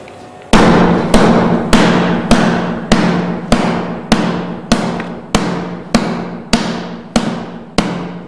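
A gold beater's hammer strikes a packet of gold leaf in a steady rhythm of about twelve loud, ringing blows, each decaying before the next, close by with no talking.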